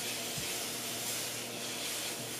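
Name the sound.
konjac noodles drying and sizzling in a frying pan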